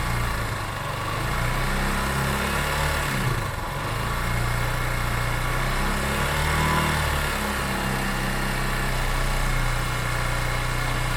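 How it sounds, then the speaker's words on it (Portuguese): Yamaha Crosser motorcycle engine held steady around 4000 RPM, a continuous droning hum with layered harmonics and a slight dip partway through, fairly close and alone with no talk. "Eu vou tentar manter a moto nos 4000 RPM."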